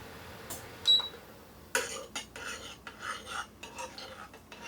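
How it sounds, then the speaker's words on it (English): A spoon scrapes and stirs through mashed potatoes seasoned with black pepper and salt, a short sequence of soft scraping and clinking strokes close by, with one sharper metallic tap early on. "let's give that a stir"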